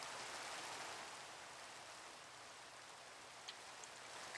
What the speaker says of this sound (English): I hate Minecraft rain.